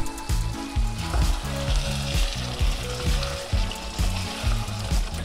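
Thattukada-style chicken roast with curry leaves sizzling loudly in a pan, stirred in a repeated rhythmic scraping pattern over a constant close frying hiss, with no voices.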